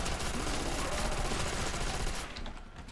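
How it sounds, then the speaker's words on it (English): An MG machine gun firing continuously at zombies in the Call of Duty zombies mode Nacht der Untoten, a loud dense stream of rapid shots that tapers off in the final half second. "now that they're grouped up, I could probably just Kill them with the MG"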